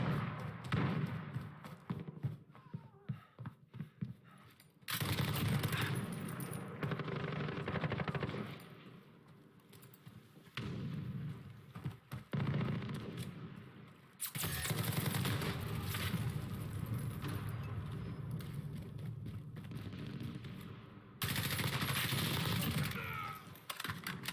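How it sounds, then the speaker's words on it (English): Gunfire in Call of Duty: Modern Warfare multiplayer comes as bursts of rapid, crackling shots, sometimes near and sometimes farther off, broken by quieter gaps, with no talking. "I don't know where those shots are coming from"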